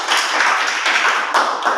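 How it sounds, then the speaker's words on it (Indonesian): A classroom group claps for the first team after its presentation, a short burst of dense, steady hand clapping with small swells and no voices over it. "tepuk tangan untuk kelompok 1 dulu"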